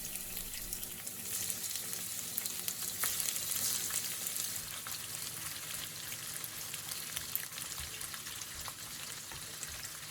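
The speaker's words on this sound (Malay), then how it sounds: "Goreng ikan bilis sehingga garing." Steady crackling sizzle of anchovies frying in hot oil until crisp, close up and continuous, with no voices.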